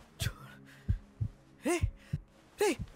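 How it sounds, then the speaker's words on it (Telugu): A heartbeat throbs in a few soft, low thuds inside a film scene, while faint breathy vocal sounds and a gasp rise between the beats. "హార్ట్ బీట్ ఉంది"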